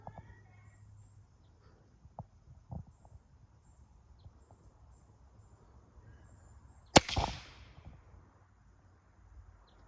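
A Crosman F4 air rifle fires once at a target, a single sharp crack followed by a brief burst of noise, amid an otherwise quiet outdoor scene with scattered faint sounds.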